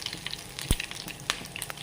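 Fenugreek seeds and dried red chillies sizzle in hot oil, a close crackling fry with sharp pops and spits scattered over a steady hiss.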